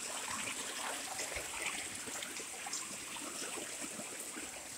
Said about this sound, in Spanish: De ahí ya está cayendo el agua, ¿eh? Es un nacimiento de agua.